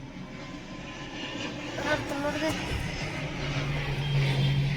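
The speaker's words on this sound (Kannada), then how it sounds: "ನೋಡದಿ ಫ್ಲೈಟ್ ಹೊಂಟತಿ" A steady engine drone of an airplane passing overhead, fairly loud and continuous, with a few words of speech on top.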